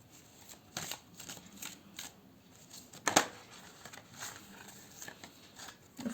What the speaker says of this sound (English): So I'm just going to draw three cards, three astrological signs.